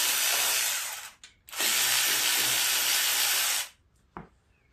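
An air tool hisses loudly in two long sustained bursts while bolts are removed from the shroud of a Troy-Bilt riding lawn mower, followed by a brief clank.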